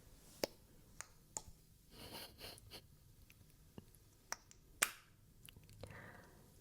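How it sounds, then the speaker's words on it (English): A cheap plastic cosmetic container gives a series of sharp, sparse clicks and snaps as it is worked open, quiet and close, with light handling rustle between and no talk. "It feels even cheaper to open it because it makes all of these weird clicking sounds"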